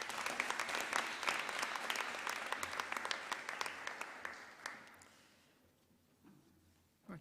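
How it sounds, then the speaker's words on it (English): An audience at a girls' high school awards ceremony applauds prize winners, a dense burst of clapping that tapers off over several seconds into quiet. "You may give them a round of applause."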